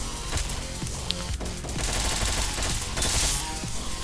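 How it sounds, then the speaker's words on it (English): Automatic machine gun fire in the top-down shooter Hotline Miami 2, rapid loud bursts layered over pounding game music and scattered impact sounds, with no talking. "And that machine gun."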